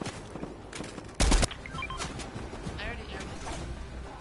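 A short loud burst of gunfire in a video game shooting match, brief and punchy amid clicks, mechanical rattles and other game effects.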